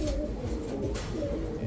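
Low, soft cooing from yellow Flegja pigeons kept for sale, heard nearby as a murmuring backdrop.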